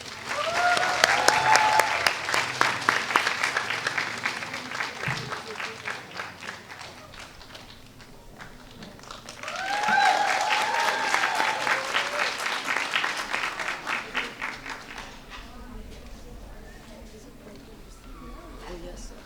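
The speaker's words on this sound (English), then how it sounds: "Let's all give a big round of applause." An audience at a school fête claps in two swelling bursts, the first fading out before a second wave of applause rises, with voices and cheers mixed into the crowd noise.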